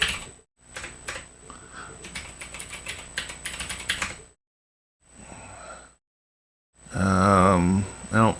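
Fingers type a password on a computer keyboard in a run of quick, close clicky keystrokes. The typing stops, there is a short pause, and then a voice speaks briefly.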